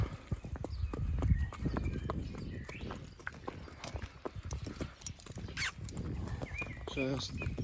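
A draft horse mare's hooves clip-clop steadily at close range while she is harnessed for a trip to gather grass, with people talking over the hoofbeats.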